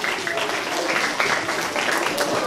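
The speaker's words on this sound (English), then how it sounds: "Give them another round of applause." An audience at a third-grade math competition applauds the contestants, a steady wash of clapping that continues through the short stretch, with some voices mixed in.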